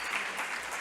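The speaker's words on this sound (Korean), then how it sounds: "박수 보내주시죠" An audience at a Korean teacher-training session applauds, a steady wash of many hands clapping at moderate volume throughout.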